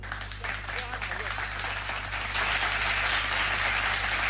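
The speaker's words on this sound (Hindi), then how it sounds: "So please welcome with a big round of applause." Parents in an audience applaud for a children's karate bamboo drill demonstration, clapping building into a fuller, denser burst partway through, heard over a steady low electrical hum.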